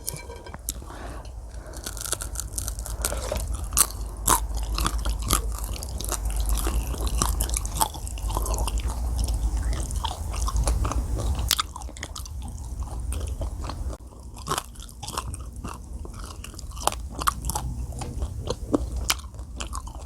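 Ramen being eaten up close, with continuous wet chewing, crunching and bites, dense and loud, with occasional sharper clicks and smacks throughout.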